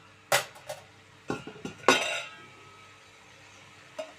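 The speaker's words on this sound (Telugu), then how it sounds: "కాసేపు మూత పెట్టి మగ్గించుకుందాం మనం." Metal lid being set on a cooking pot of brinjal and tomato curry: a few sharp clinks and clatters close by, then quiet with a faint final tap.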